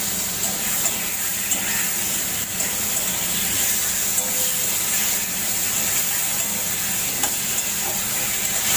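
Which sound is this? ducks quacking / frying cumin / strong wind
frying cumin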